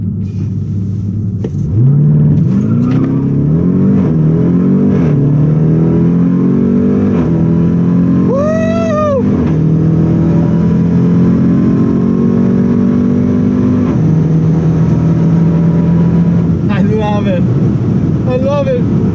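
A Jeep Trackhawk roars hard at a drag strip, its engine loud and close as it launches and pulls through long rising sweeps with gear-change dips, a brief high whine cutting in twice.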